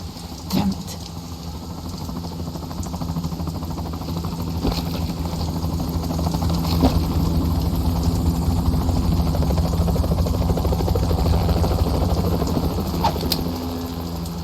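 Helicopter engine in the PlayStation 2 game Metal Gear Solid 2: Sons of Liberty, a steady droning rotor and engine rumble that builds slightly and holds throughout, with a few brief clanks early on and no talking.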